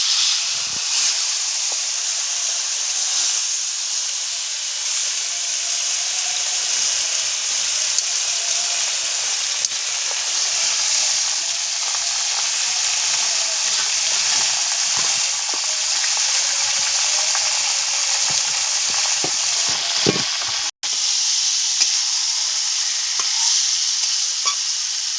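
Chicken marinated with spices such as cumin and bay leaf sizzles loudly in a hot karai, a steady, bright frying hiss that barely changes throughout, with faint occasional stirring knocks and one brief dropout near the end.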